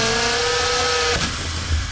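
A power drill whines steadily while boring a hole in a Maruti Swift, a high sustained tone for about a second before it cuts off, leaving a low hum and brief rattle.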